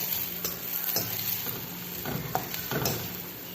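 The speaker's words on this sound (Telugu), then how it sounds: "అది కూడా వేసేసుకొని కొంచెం పసుపు వేసుకొని మంచిగా ఫ్రై చేసుకోవాలి" Onion, green chili, garlic and turmeric frying in a pan with steady close sizzling, broken by a few scrapes and stirs of a utensil, no talking.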